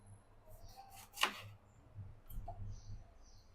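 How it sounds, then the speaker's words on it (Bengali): A knife forces through a hard, stale eggplant in one crisp central cut, followed by a softer scrape. The cutting is close and quiet over a faint room hum. "বেগুনটা কেমন জানি শক্ত শক্ত টাইপের মানেই হয়ে গেছে, ফ্রেশ না, এর জন্য কাটতে সমস্যা হইতেছে"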